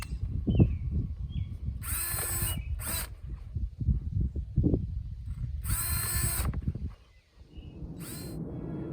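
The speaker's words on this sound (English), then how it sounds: "I'll just get the drill out and get some holes in there" A power drill bores holes in plastic snake chaps in two short, loud whirring bursts, separated by handling rumble and knocking; no one speaks.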